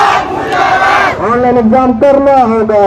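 Crowd of university students at a protest over online exams in Ambikapur, loud massed voices shouting together before a clear spoken line cuts in over the noise.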